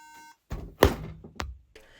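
A Mac computer beeps from failed 16 GB RAM: a few short electronic beeps ring out amid clunks and handling thuds, with a brief tone at the start and a steady hum near the end.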